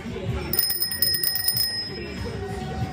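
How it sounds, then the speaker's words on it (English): A bicycle bell trills rapidly for about a second, bright and close, while people chat in the background at a lowrider club barbecue. "We got the bells."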